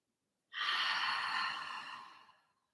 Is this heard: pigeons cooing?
no